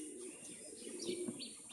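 A female pigeon gives a faint, low cooing over a quiet, hissy background, with a couple of soft higher chirps in the brief stretch.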